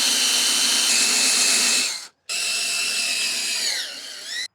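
A power drill boring two holes for a boat's bow eye, a loud steady whine that stops briefly and then resumes, close by with no talk.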